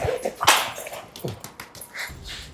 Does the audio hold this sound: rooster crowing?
no